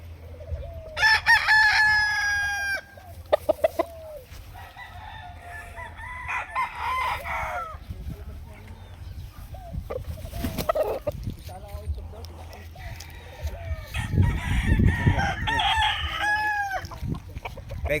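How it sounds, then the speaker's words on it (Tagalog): Roosters crow repeatedly while hens cluck and chatter nearby, a busy, fairly loud backyard farm barnyard in Cavite, Philippines, with overlapping calls and some low rumbling in the background. "magulang na itong mga manok na ito."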